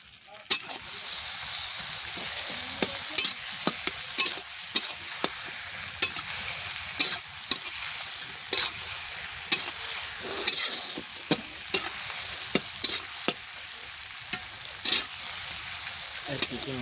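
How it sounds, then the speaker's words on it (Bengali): Chopped tomatoes and green chillies hit a pan of frying onion and garlic, giving a steady loud sizzle with repeated sharp clicks and scrapes of stirring throughout. "এবার কেটে রাখা টমেটো আর কাঁচা লঙ্কা দিয়ে দেবো"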